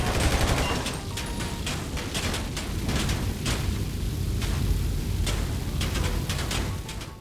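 Dense gunfire in GTA 5, rapid overlapping shots fired at fuel generators, loud and continuous with sharp cracks over a rumbling low roar throughout.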